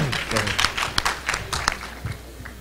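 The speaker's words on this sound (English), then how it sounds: "Give yourselves a hand." Audience clapping at a college sports awards ceremony on a university campus, a brief dense patter of hands with sharp individual claps standing out, fairly close.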